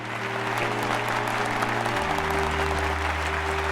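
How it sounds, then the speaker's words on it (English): A crowd claps steadily throughout in a Final Fantasy XIV: Dawntrail cutscene, dense and continuous, with a low droning tone beneath that shifts pitch midway. "The one guy starts clapping."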